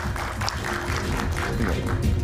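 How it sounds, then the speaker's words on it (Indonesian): An audience at a televised talk or debate program gives another round of applause for Bung San Salvator, a short spell of clapping over low background rumble. "Kita berikan tepuk tangan sekali lagi"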